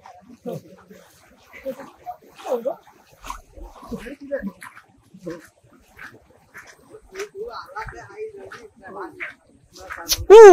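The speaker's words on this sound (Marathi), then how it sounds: "कुत्रा बांधलाय" Close by, a tied-up dog gives a few short barks and soft whimpers amid people talking outdoors near Kondi Waterfall, Sagwadi, Alibag, ending with a loud sudden burst.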